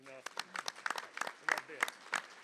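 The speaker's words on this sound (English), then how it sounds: "Another round of applause for her." Scattered clapping from a small group at a school board meeting, irregular claps rising and falling over a couple of seconds with voices mixed in.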